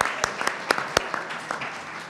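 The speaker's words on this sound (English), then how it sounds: "Give a round of applause for everybody here." Applause from an audience at a Somali-Canadian community association gathering, scattered claps with a few sharp, distinct hand strikes standing out over a softer, thinning background of clapping.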